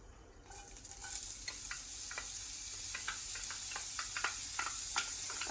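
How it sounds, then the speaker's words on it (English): Onions sizzle in a hot pan for butter chicken, a steady faint crackle with scattered small pops and ticks running throughout, no voices. "I'm going to start sizzling."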